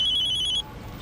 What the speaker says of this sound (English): Sorry, my phone's going.